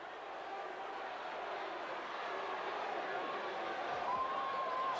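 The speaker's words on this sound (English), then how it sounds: "It's a great sound out there to hear this crowd roaring for Kiwi" A large grandstand crowd at a 1987 Australia versus New Zealand rugby league test roars steadily for the Kiwis, a broad continuous wash of cheering that swells slightly toward the end, with a faint whistle near the finish.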